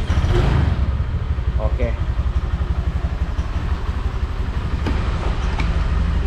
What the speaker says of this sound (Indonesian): langsung kita hidupkan motornya, nggak perlu digeber, biarkan aja langsamnya